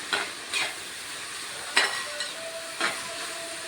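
Sliced onions sautéing with salt in a pan make a soft, continuous sizzle, broken by several scraping stirring strokes at irregular intervals, with no talking.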